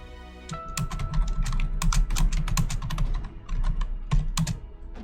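Rapid clicking keystrokes on a computer keyboard while typing in Google Docs, close and crisp, in irregular bursts with a brief pause near the end and no talk.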